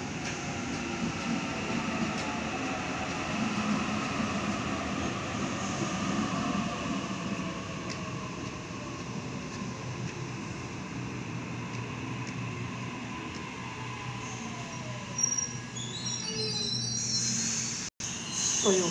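A Hornsby service train runs through Killara station in the afternoon peak with a steady, rumbling wheel-and-motor drone. A shrill insect-like whine rides over it, and a brief metallic clatter and bump come near the end.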